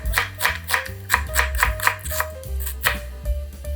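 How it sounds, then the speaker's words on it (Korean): An onion is sliced with a knife on a board, a brisk run of about a dozen close, crisp chops in an even rhythm with a short pause before the last few. "양파 1개 썰어줍니다."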